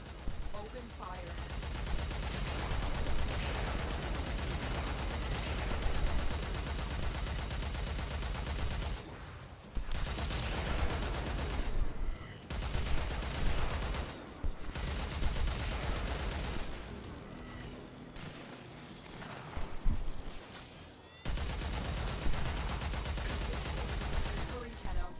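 Sustained automatic gunfire in a sci-fi shooter game as players attack an exposed core, dense loud bursts broken by brief pauses, with bangs and effects layered throughout.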